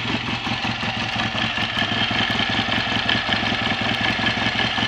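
A BSA A65 Thunderbolt motorcycle engine idles steadily on its first start, a loud, continuous, even running note with rapid firing pulses throughout and no pauses.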